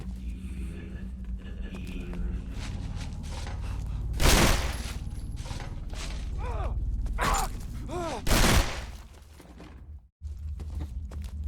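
Gunfire from the video game Condemned 2: Bloodshot, in the Preston Hotel chapter: a few loud, sharp shots stand out against a steady rumbling game backdrop, with brief voice sounds nearby.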